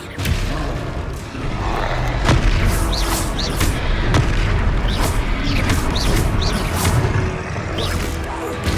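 The Expelliarmus spell is cast in the Hogwarts Legacy video game amid a loud, dense battle mix of booms, blasts and whooshes with repeated sharp magical bursts over a constant rumbling bed.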